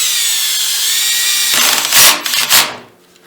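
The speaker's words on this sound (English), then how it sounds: "with my drill, and I have it set to number 3" A cordless power drill set to a low clutch setting whirs steadily, then drives a drywall screw into wood for a horseshoe coat rack in two short, harsh bursts before stopping.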